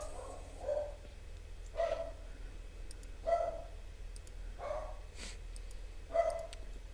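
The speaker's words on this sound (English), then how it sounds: "Why is my dog barking?" Five muffled barks from a dog in another room, spaced out at irregular intervals over a quiet, humming background.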